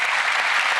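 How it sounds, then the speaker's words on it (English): Studio audience at a magic show bursting into loud, dense applause after a card-and-coin trick, a brief, full wash of clapping. "Should be a round of applause"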